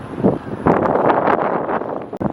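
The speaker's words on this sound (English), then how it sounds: "it is very windy out now today, so it might be very hard to hear me today" Gusty wind buffets the microphone in low rumbling bursts outdoors at a theme park construction site, louder after the first moment, with faint rustling mixed in.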